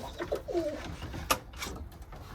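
Pigeons coo softly nearby in a few throaty, rolling calls, with a brief flutter or scuffle partway through.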